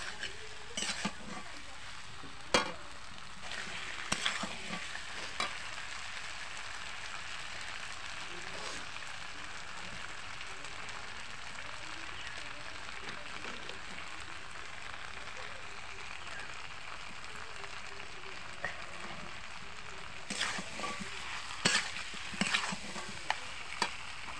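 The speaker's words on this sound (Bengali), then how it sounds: "এইবারে আলুটা দিয়ে ভালো করে কষিয়ে নিই।" Chicken curry with potatoes sizzles and fries steadily in a pan, with a continuous crackling hiss broken by scattered sharp scrapes and clinks of a spoon stirring against the pot, loudest near the start and the end.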